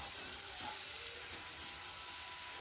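Cauliflower stem and potato curry being sautéed in a pan, a soft continuous sizzle with faint stirring, quiet and close, no voices.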